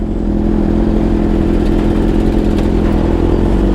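A BMW S1000RR superbike, hot after crawling through heavy traffic, idles with a steady low mechanical rumble and whir, close and continuous with no rider speaking.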